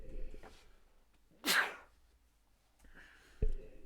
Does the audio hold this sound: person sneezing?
yes